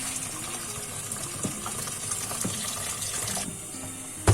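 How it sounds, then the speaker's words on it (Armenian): Boiling water is poured out of a cooking pot while making harisa, a steady gushing splash running continuously at moderate level and ending abruptly. "Ահա այսպես ջուրը թափում ենք։"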